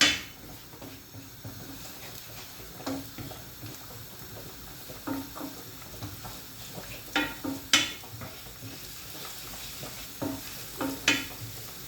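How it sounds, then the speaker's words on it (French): Onions sautéing in a cooking pot for a pasta carbonara, a steady close sizzle with intermittent scraping and knocking strokes of a stirring utensil against the pot, no talking. "Je vais faire revenir mes oignons."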